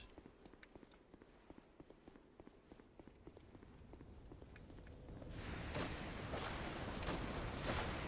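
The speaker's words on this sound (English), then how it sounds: "I heard a horse somewhere." Horse hooves in the video game Dark Souls 2, a steady rapid clip-clop of footfalls that grows louder and denser toward the end, joined by a broad rushing rumble.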